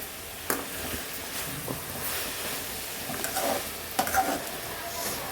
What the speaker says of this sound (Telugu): ఇప్పుడు టమాటాలు వేసి వేయించుకుందాం.